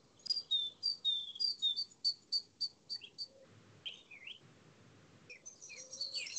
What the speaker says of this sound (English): About 30 metres behind us is a song thrush. And that bird has been singing for pretty much all the daylight hours for the last 3 days.